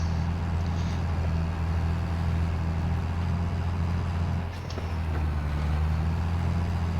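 Steady low drone of a farm tractor engine running during wheat planting, loud and constant throughout with no talk.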